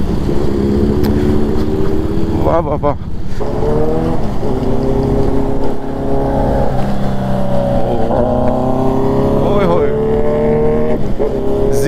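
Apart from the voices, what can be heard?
Kawasaki Z900 motorcycle engine sounds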